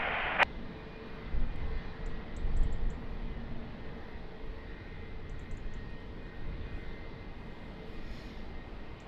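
An Azores Airlines airliner at Lisbon Airport, a faint, steady engine roar heard from a distance under broad background noise, after a brief sharp click at the start.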